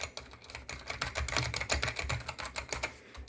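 Fast, steady typing on an AT101W mechanical keyboard with Alps black switches, a dense run of clacky keystrokes heard close and fairly quiet, with no talking.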